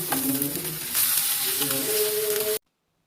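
Mackerel frying on a banana leaf in an old pan without oil, sizzling steadily up close, with scraping and shifting as the pieces are flipped, then cutting to silence near the end.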